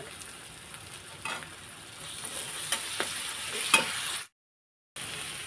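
Dry prawns frying with onions and ginger garlic paste in a pan, a continuous close sizzle with irregular scrapes and clicks of a spatula stirring, then a brief cut to silence before the frying resumes.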